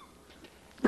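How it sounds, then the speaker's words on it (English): A single short, sharp cough bursts out near the end after quiet, close and fairly loud, in a damp stone cavern whose walls are crusted with white nitre. "How long have you had that cough?"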